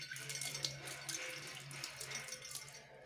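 Water trickles and splashes through an anti-odor floor drain with a trap valve, a faint continuous flow with small irregular splashes and drips, close by and quiet.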